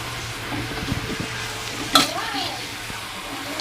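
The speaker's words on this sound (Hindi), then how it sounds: "थोड़ा सा मिक्स करके इसको हिला दो" A spoon stirs carrot halwa (gajar ka halwa) in a pan, making soft scraping and a gentle sizzle close by, with one sharper metallic scrape near the middle.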